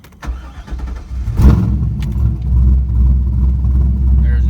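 A crash-damaged Chevrolet Corvette C5 with a broken radiator starts up after a crash, giving a few sharp mechanical bumps before its engine settles into a loud, steady low idle rumble that continues to the end.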